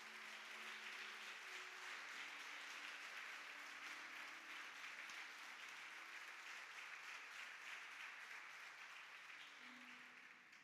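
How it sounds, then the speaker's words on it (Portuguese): Congregation applauding during an Easter morning church service, a sustained, even wash of clapping heard from a distance, with faint low tones underneath. "Você pode aplaudir Jesus nessa manhã?"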